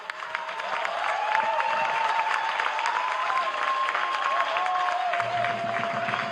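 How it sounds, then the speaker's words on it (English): Audience applause at a live plenary session, a dense, steady wash of clapping that swells in and holds for several seconds, with a faint voice in the background. "Can we give him another round of applause, please?"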